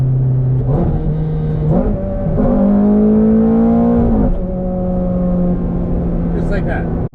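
A Ferrari F430 Spider F1 pulls hard at full throttle through paddle upshifts, with the engine note climbing, dropping at each quick shift and rising again, loud and close from inside the cabin, while someone talks over it.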